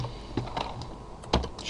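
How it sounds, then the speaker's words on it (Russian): Keys on a computer keyboard clack in a few sharp, close taps with pauses between them, alone without talk. "Нажимаю на клавиатуре, да, с Shift, соответственно, Extrude."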